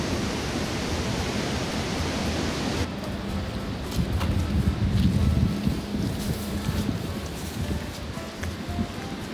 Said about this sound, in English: So this is a final look at the Bridal Veil waterfall